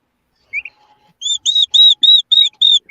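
Pet birds chirp indoors, a run of bright, clear tweets repeated in a quick steady rhythm after a short faint call, close and fairly loud with no talking.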